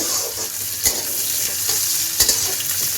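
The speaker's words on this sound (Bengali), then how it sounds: "দেখুন এবারে পেঁয়াজটা একটু ভাজা ভাজা হয়ে গেছে" Onion frying in a pan for a home-style masoor dal bora dish, a steady close sizzle with a few sharp scraping stirs and no voices.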